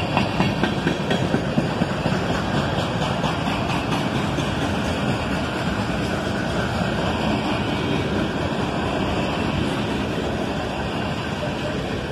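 A BNSF freight manifest train led by an ES40DC and an AC44CW in the Y&2 paint scheme rolls past in a steady, continuous rumble with wheel noise, holding at the same level throughout.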